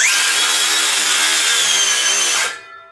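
A DeWalt power saw cuts wood for a budget micro skiff build, a steady loud whining buzz that holds for over two seconds before the blade bites free and the motor winds down, with no talk.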